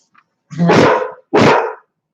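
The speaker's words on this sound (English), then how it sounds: "Hey! Mom! No barking." Two loud, sharp dog barks close up, one after the other, with silence around them.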